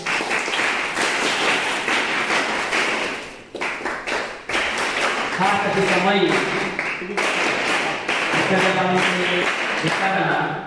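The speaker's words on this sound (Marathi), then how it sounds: "सर्व विद्यार्थ्यांनी कृपया त्यांच्यासाठी टाळ्या वाजवायच्या आहेत।" Students applauding at a school prize-distribution ceremony for Republic Day, a dense loud wash of hand claps with a brief dip midway, while someone speaks over the clapping through much of it.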